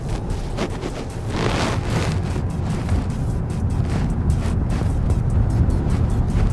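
A Toyota Camry HEV hybrid sedan driving at about 30 km/h on a slippery road, heard as loud, steady, broadband road and tyre rumble from inside the car, with no clear breaks.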